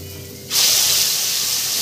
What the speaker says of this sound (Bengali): তো দেখুন তেল গরম হয়ে গেছে, এখন আমি চিকেনটা দিয়ে দেবো।